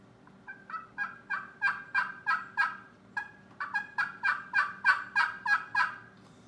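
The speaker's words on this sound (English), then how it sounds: "No matter what pot call you're using, from the outside to the inside is a different tone." Raspy turkey yelps scratched out on a pot call, two rapid runs of rising, evenly spaced notes, close and clear.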